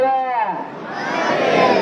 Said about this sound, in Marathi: या ठिकाणी गर्दी आहे.